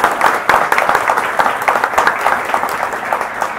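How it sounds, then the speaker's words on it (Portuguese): Wedding guests clap for the bride during a ceremony, a dense, steady round of applause that stays loud throughout with no talking over it. "palmas pra ela"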